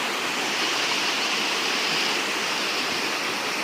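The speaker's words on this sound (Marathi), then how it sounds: "तीन दिवस मुसळधार पाऊस पडला आहे ना त्याच्यामुळे नदीला आत्ता एवढं पाणी सुटलेलं आहे" A river swollen in flood after three days of heavy rain, a loud, constant roar of rushing water filling the scene, close and unbroken, with no voices.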